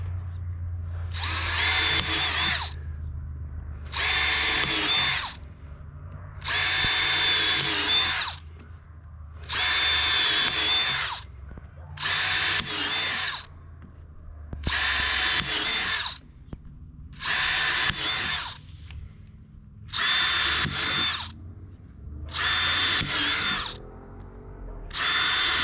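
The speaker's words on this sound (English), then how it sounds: "We're just going to drill a bunch of holes in this." A power drill with a 3/8-inch bit bores holes in a downspout pipe: about ten whining bursts of a few seconds each, evenly spaced with short pauses between, loud and close.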